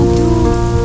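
Rain falls in a steady, loud, unbroken patter for under a second, with a tonal musical drone beneath it.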